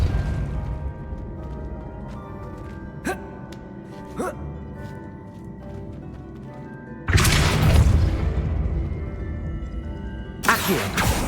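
A Depulso spell fires in Hogwarts Legacy with a loud broadband blast that swells and lingers for a few seconds. A second, sharper burst follows near the end over a low ambient game soundscape, with a few faint clicks before.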